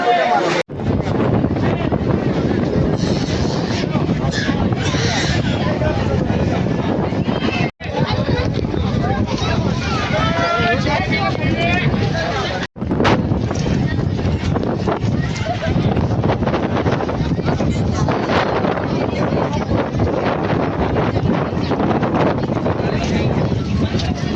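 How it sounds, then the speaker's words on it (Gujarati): Strong gusting wind on the Pavagadh hilltop in Gujarat buffets the microphone in a loud, constant roar, with voices faintly mixed underneath and two brief dropouts. "મસ્ત મજાનો પવન આવી રહ્યો છે."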